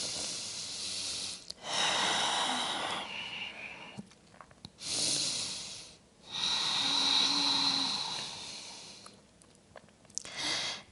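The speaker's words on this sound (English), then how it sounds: "Take a couple of big breaths." Slow, deep breaths drawn in and pushed out through the nose and mouth during a morning vinyasa yoga flow, several long airy inhales and exhales near and clear, separated by short quiet pauses.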